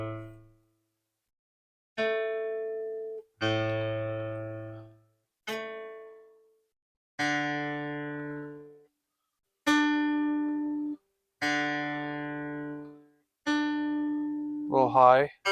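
A Washburn D10 acoustic guitar sounds single plucked notes one at a time with pauses between, each ringing and decaying, close and fairly quiet, ending with a quick wavering note.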